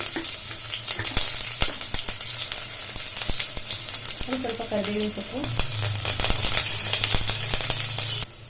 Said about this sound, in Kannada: ಈ ಹಂತಕ್ಕೆ ಈರುಳ್ಳಿ ಚೆನ್ನಾಗಿ ಸಾಫ್ಟಾಗಿ ಫ್ರೈ ಆಗಿದೆ.